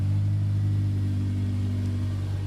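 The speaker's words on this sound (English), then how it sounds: "God, this exhaust is really burbly." A Honda S2000's exhaust burbles at a steady low idle, a deep continuous rumble heard close up with no voices.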